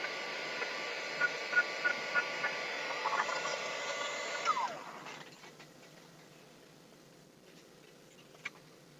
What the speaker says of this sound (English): be careful when you use your dryer because it will melt your glass, your plastic